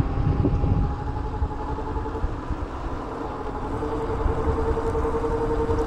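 A Caroma E68 electric scooter accelerates on a track toward 20 miles per hour, with a steady whirring hum and a rising tone under continuous rushing wind and road noise.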